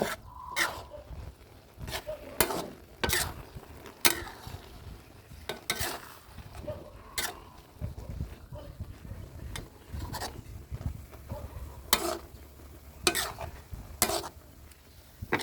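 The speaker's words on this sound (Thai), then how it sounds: "การกวนสับปะรดนะครับก็ค่อยๆกวนไปนะครับ" Thick pineapple jam being stirred in a pan over heat, a steady scraping, sizzling stir repeated in uneven strokes throughout, with sharper spoon knocks against the pan at intervals.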